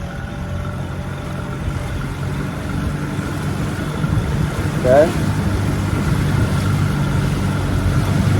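A Carolina Skiff J16 boat's outboard motor, freshly carburetor-cleaned after transom upgrades, hums steadily on the water throughout, with wind and water noise around it and a brief voice speaking partway through.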